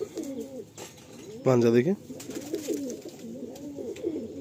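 Pigeon coos in repeated low, rolling bursts close by, with a short spoken phrase breaking in partway through.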